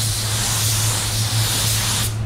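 A paint spray gun hisses steadily and loudly while laying a second coat of clear over candy red paint, a continuous close airy spray that cuts off abruptly at the end.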